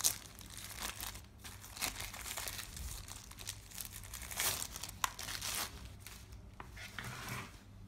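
Plastic bag packaging of a Xiaomi 20000mAh power bank crinkling and rustling up close, continuous with sharper crackles scattered throughout, no voices.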